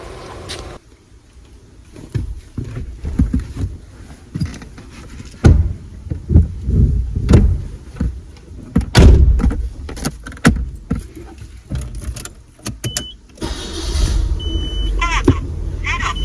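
A 1991 Nissan C33 Laurel pulls away for a drive, its engine and cabin rumble rising and falling with road noise, a few electronic chimes near the end, and faint talk inside the car.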